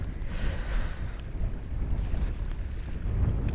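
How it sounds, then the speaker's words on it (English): Strong, cold wind gusts across a beach at dusk during bass fishing, a steady roaring rush that swells and eases without letup, close to the microphone with no talking. "The wind is really blowing now."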